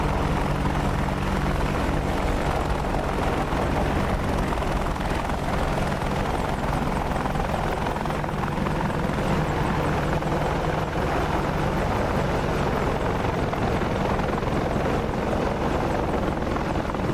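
An Apache attack helicopter flies in a combat setting, its rotor a loud, dense, unbroken drone that holds steady throughout.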